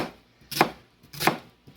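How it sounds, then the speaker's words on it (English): Onions being chopped with a knife on a cutting board in a home kitchen, two sharp, close knife strokes about two-thirds of a second apart with a third starting at the end, no talking. "Nona, you finish chopping the onions."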